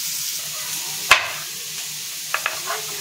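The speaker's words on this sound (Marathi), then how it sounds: "कांदा मस्त भाजलेला आहे" Onion with salt frying in a pan, a soft steady sizzle with one sharp utensil knock and a couple of lighter clinks afterward.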